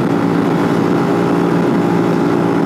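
A Benelli TNT 125 motorcycle drops a gear on an uphill climb, its engine a steady, loud, close drone that shifts slightly in pitch, with wind noise and no voices.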